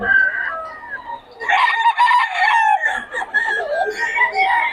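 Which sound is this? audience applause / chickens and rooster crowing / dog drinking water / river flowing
chickens and rooster crowing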